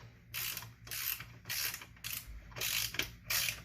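A ratchet wrench cinches down a bolt on a McCulloch chainsaw fuel tank, making about seven quick, evenly spaced bursts of clicking strokes, close and fairly quiet, with no talking.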